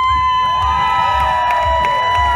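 A garden-party comedy audience screams, whoops and cheers loudly and continuously for the performer, a dense, steady crowd roar with high-pitched shrieks running throughout.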